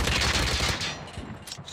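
Sniper gunfire in the Call of Duty Mobile video game, a dense, muffled burst of rapid shots and booms running continuously at moderate level.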